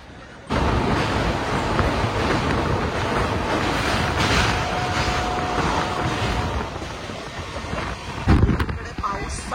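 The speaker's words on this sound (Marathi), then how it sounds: "इकडे पाऊस चालू आहे. पाऊस बघा." Rain and rushing air roar outside a moving passenger train on the Mumbai to Lucknow route, a loud, steady broadband hiss that runs nearly the whole time with a brief thump near the end.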